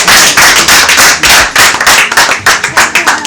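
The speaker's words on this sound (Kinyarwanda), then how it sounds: "Mwabanshimira mukabamera amashyi" Loud, close hand clapping from guests at a birthday celebration for a Rwandan film writer: brisk, fairly rhythmic claps in quick succession, with no talking over them.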